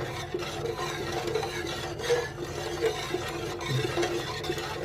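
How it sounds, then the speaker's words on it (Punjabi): Steady wet swishing and scraping as bottle gourd curry is stirred in a pot after milk is poured in, a continuous close rubbing sound with light sloshing. "ਆਪਾਂ ਦੁੱਧ ਦਾ ਗਲਾਸ ਭਰਿਆ ਪਾ ਰਹੇ ਹਾਂ ਲਓ ਜੀ ਇਹਨੂੰ ਹਿਲਾ ਦਿਓ ਮਿਕਸ ਕਰ ਦਿਓ"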